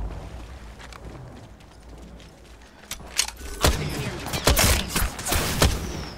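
Gunfire is exchanged during a video game battle royale match: scattered shots build into dense, sharp bursts and rapid volleys, loud and overlapping.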